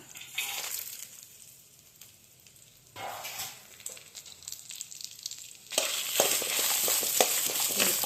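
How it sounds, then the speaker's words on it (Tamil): Garlic and chilies being dry-roasted together in a pan for idli podi, with a dry sizzle and scraping stirs that swell louder in bursts, close and without talk. "பூண்டு, மிளகாய் எல்லாத்தையுமே ஒன்றாவே வதக்கிங்க"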